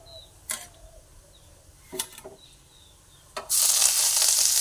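Grated ginger hits hot oil in a pan for a pumpkin dish, breaking into a loud, steady sizzle after a few faint clinks and scrapes.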